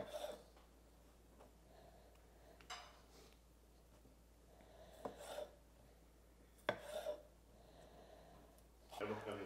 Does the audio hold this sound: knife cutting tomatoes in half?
yes